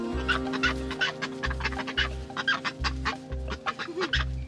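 Ducks exploring their new coop give quick, close, rhythmic quacks and clucking calls over a low steady hum, with no talk.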